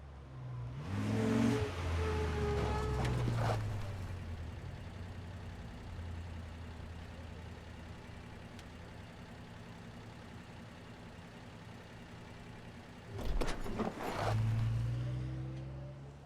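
A worn car engine in the video game Life is Strange revs up twice, loud and close, with a lower steady idle rumbling in between the bursts.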